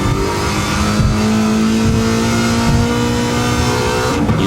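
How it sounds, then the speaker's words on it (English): Race car engine in a racing video game on the Wangan highway, roaring steadily at high revs under full throttle while chasing and overtaking a Porsche, loud and continuous with no voices. "As we match the right pedal to the floor to overtake the Porsche and win by a very slim margin."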